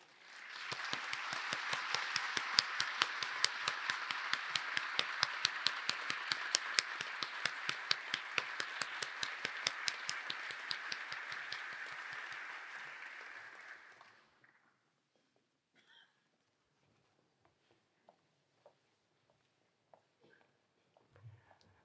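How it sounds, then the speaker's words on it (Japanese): A conference audience gives dense, sustained applause for about fourteen seconds welcoming a speaker, then it stops abruptly, leaving near silence with a few faint clicks. "皆様大きな拍手でお迎えください。"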